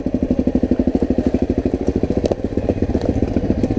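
A small Honda 250 motorcycle climbs a steep forest trail, its engine close and chugging in a fast, even rhythm of low thumps throughout, with no speech.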